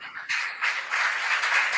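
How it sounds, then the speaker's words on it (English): A big round of applause for contestants at a school quiz competition, steady broadband clapping swelling in after a brief lull and sustaining evenly throughout, fairly close and with no talk over it. "A big round of applause for our contestants"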